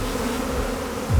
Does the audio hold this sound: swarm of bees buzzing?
yes